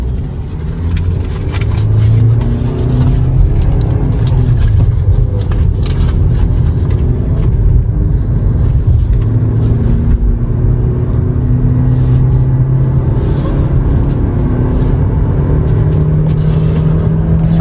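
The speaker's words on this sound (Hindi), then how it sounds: "अब हाईवे पे ड्राइव शुरू कर रहे हैं। ये लग गया फर्स्ट गियर" A Toyota Hyryder AWD car pulls away in first gear on a highway, its engine drone rising steadily under continuous road rumble heard from inside the cabin, with no talking.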